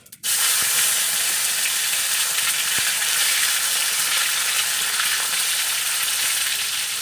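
Bay leaf, whole cumin and chopped tomato hit hot oil with a sudden loud, close sizzle that holds a steady, unbroken hiss for several seconds.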